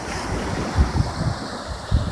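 Waves break on the Gulf of Mexico shore at night, a steady low surf wash with a few heavier thuds of breaking water, mixed with wind noise on the microphone.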